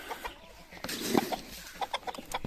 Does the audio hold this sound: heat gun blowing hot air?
no